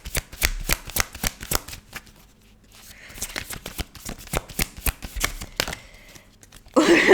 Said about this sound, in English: And let's get another card for you